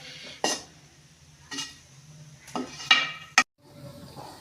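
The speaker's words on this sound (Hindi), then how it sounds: "यहाँ पे हमारी बेसन की भुनाई हो रही है।" Gram flour roasting in desi ghee over low heat, heard as several separate scrapes and clinks of a spoon against the pan with quiet gaps between them and a faint sizzle, with no voices.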